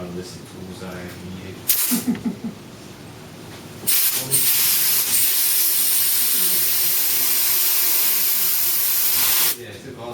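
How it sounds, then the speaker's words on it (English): Loud, steady hiss of compressed air blasting into a Nordskog boost sending unit for several seconds after a couple of short puffs, with faint clicks before it. "I'm going to blast air into it and watch the meter."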